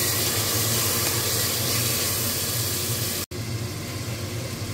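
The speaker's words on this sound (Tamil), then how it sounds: "ஆனியன் நல்லா கோல்டன் ப்ரௌனாக வதங்கினதும் நம்ம வெட்டி வச்சுருக்க தக்காளி போட்டு" Onions and tomatoes saute in a pan for a mutton pepper curry, giving a steady broad hiss of frying that runs continuously, broken once by an abrupt cut, with no talking.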